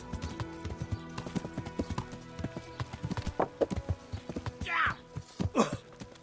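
Horse hooves clip-clop steadily in a PS4 video game, close and rhythmic, with a couple of louder snorting or whinny-like bursts near the end and some background game sound.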